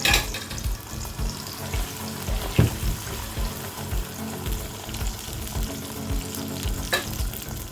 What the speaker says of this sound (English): My chopped onion and my locust beans have been fried like for 5 minutes